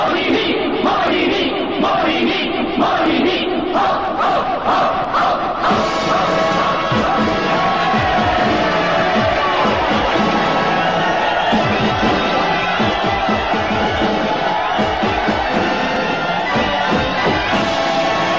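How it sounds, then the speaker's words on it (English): An audience at a school day show claps and cheers loudly and continuously, a dense mass of applause with shouts and children's voices throughout. "with a huge round of applause"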